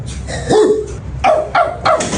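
A small household dog barks sharply up close, a quick series of three or four yappy barks with brief whimpering tones between them, no voices over it.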